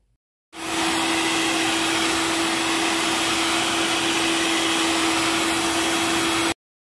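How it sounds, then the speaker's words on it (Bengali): A blender whirs steadily at high speed, mixing sugar into basbousa cake batter, starting abruptly and running loud and even for about six seconds before cutting off, with no talking. "চিনিটা দিয়ে আবার আমি ব্লেন্ড করে নিব"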